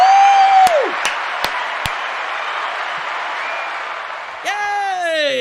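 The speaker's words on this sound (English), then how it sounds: "I want to applaud myself." A lone person applauds themself in a celebratory burst lasting several seconds. The clapping is broadband and steady, with a few sharp clicks and rising whistle-like tones at the start and end.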